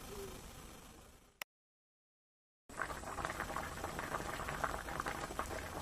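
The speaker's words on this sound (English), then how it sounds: "As you can see, we're bringing it up to a nice healthy simmer." A cooking mixture simmers in a pot, a soft, close bubbling hiss that stops for a moment with a brief gap of silence, then resumes with denser, livelier bubbling.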